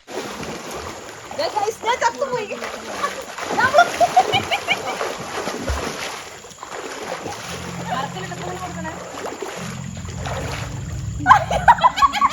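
Water splashes in a swimming pool on a girls' trip to Wayanad: scattered splashes and sloshing at moderate distance, mixed with steady chatter from several voices.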